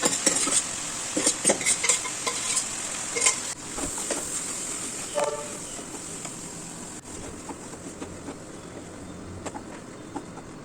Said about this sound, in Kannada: ಚೆನ್ನಾಗಿ ಫ್ರೈ ಆದಮೇಲೆ ಬೇಯಿಸಿ ಎತ್ತಿಟ್ಕೊಂಡಿರೋಂಥ ಕಾಳನ್ನು ಹಾಕಿ ಮಿಕ್ಸ್ ಮಾಡ್ಕೊತಾ ಇದ್ದೀನಿ